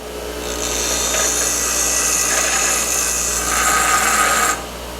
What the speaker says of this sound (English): we're just going to round this edge off with the grinding wheel